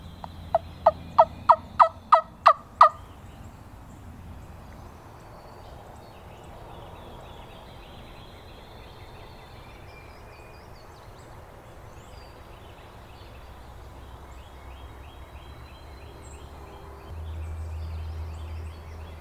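A wild turkey tom gobbles in a rapid burst of about seven sharp, loud pulses in the opening seconds, followed by a long quiet stretch of faint outdoor ambience and a low rumble near the end.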